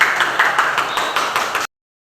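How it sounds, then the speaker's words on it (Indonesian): A classroom audience claps briefly, a dense patter of applause that cuts off abruptly after under two seconds. "Tepuk tangan untuk Anda semua."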